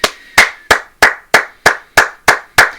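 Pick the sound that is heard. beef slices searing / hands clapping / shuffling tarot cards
hands clapping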